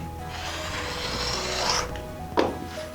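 Quilt fabric being cut into 7.5-inch strips along a ruler, heard as a steady soft rasping drag that swells toward the end, with a brief sharp scrape near the close.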